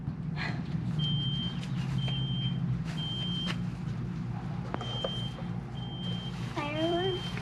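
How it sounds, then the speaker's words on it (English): A fire alarm gives repeated short, steady electronic beeps at a regular pace, fairly clear over a constant low background rumble and murmur. "That's definitely a fire alarm."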